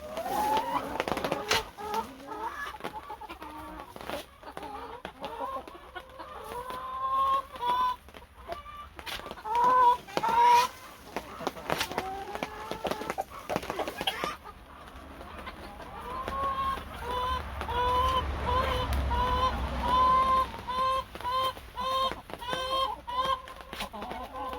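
Hens cluck and squawk steadily inside a heated winter chicken coop, with a busy, overlapping chorus of close calls throughout and a low background hum.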